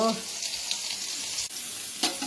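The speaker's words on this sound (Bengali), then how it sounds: "এই যে বার করে একটুখানি ভেজে নিলাম পাশ ওপাশ করে" Food frying in oil in a pan while being turned from side to side, a continuous close sizzle with a few soft clatters and a sharper hiss near the end.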